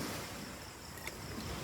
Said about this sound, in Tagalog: Sabay paputok ng alon.